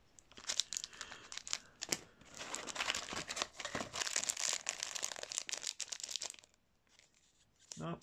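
Crinkly plastic wrapper of a Final Fantasy trading card pack being torn open, a close, busy rustling and tearing that fills most of the clip, with brief pauses and a final crinkle.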